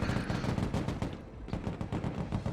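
Rapid machine gun fire in the video game Broken Arrow, dense rattling bursts of automatic shots with a brief gap midway, loud and close.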